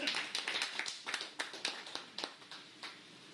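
Audience in a Hindi-language RCM business plan meeting clapping briefly, a scattered run of sharp claps at moderate distance, fairly quiet and uneven rather than a full ovation.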